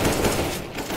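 Dense bursts of AK-47 rifle fire in the shooter game CSGO, a fast rattling volley that stays loud and continuous for about a second with a brief dip near the end.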